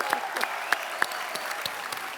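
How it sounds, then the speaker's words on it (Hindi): A studio audience at The Kapil Sharma Show claps in a brief burst of sharp, scattered hand claps, fairly close and moderately loud, with little else beneath. "डॉक्टर साहब के लिए जोरदार तालियां।"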